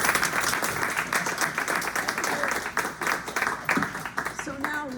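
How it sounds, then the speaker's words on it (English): An audience at a bookstore poetry reading breaks into dense applause, a steady wash of close clapping with voices mixing in toward the end. "Let's clap again"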